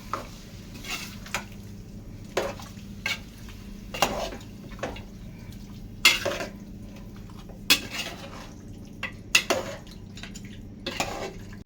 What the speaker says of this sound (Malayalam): ഇനി നമുക്കൊന്നും കൂടി ഒന്ന് ഇളക്കി കൊടുക്കാം.